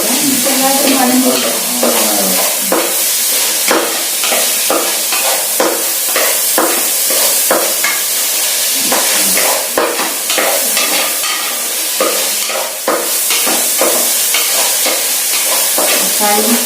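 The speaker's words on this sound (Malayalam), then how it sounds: "തക്കാളിയും സവാളയും പച്ചമുളകും കറിവേപ്പിലയും എല്ലാം നന്നായിട്ട് വഴങ്ങിയിരിക്കുന്നത്." Tomatoes, onions, green chillies and curry leaves sautéing in a pan for beef roast, a loud close sizzle broken by frequent stirring scrapes and clatters from start to finish.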